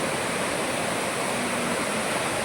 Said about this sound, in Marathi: इथे पण 7 धबधबे एकत्र आपल्याला बघायला मिळतात